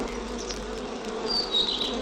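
Bees buzz busily around a hive, a steady faint drone with occasional closer individual bees passing by.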